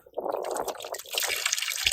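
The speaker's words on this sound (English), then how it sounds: "There's actually already some water coming through" Water splashes and trickles out of an opened plumbing cap on a camper, a short, close burst of gurgling liquid that runs steadily before the clip ends.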